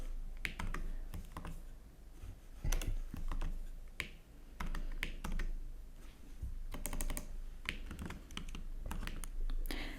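Rapid, steady clatter of keys on a computer keyboard, close and continuous with brief pauses between bursts of typing.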